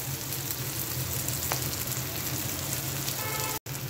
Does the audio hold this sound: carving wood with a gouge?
no